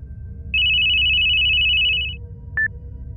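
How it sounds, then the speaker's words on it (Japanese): A phone ringtone sounds, a steady high electronic tone held for over a second, then a brief second beep, over a low background hum. "着信音、鳴らす。"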